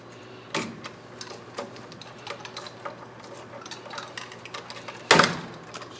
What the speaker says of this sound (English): Strip the wires, set them aside, take the other wire.